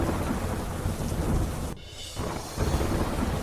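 Steady rain pours down in Bhavnagar, a dense, loud hiss of drops on surfaces that briefly thins for a moment before returning just as heavily.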